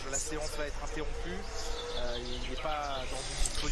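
Birds chirp and twitter in a garden, with scattered short calls over steady background noise while someone keeps talking nearby.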